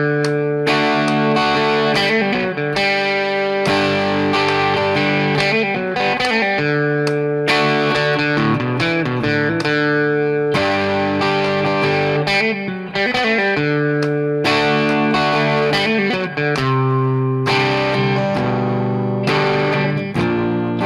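Electric guitar through distortion and effects plays a blues lick with hammer-ons and pull-offs, loud and close, repeated phrases with sustained bending notes and no talking.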